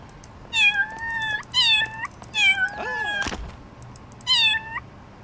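Cartoon cat meowing in Little Kitty, Big City, a run of four or five clear, fairly loud mewing calls in an uneven rhythm, with a soft thump near the middle.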